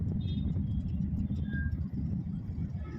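Steady road traffic on a poor road beside a hospital, a continuous low rumble of car engines and tyres close by, with no speech.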